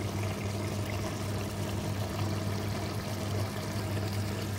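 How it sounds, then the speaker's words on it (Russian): Water is poured into a pot of Dutch-style beef goulash, making a steady, even pouring hiss over a low hum throughout. "Я буду подливать воду."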